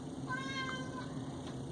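A house cat meows indoors, two or three short tonal meows close by over a quiet room hum, with no talking.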